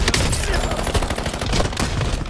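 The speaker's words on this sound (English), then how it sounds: "Incoming fire!" Rapid bursts of automatic gunfire and blasts fill a video game firefight, loud and close, with overlapping shots crackling in quick succession.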